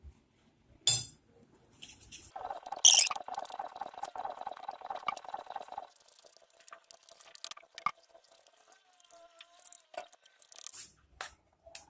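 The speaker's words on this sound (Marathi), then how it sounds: "आणि यात आपण पाणी टाकून हे मिक्स करून घेणार आहोत।" Chicken lollipop batter being mixed with water in a bowl, close wet squelching and sloshing strokes with a few clinks of a utensil against the bowl, then quieter scattered stirring and taps.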